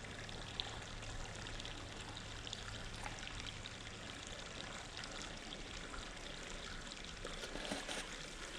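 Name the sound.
oily beaver lure poured onto water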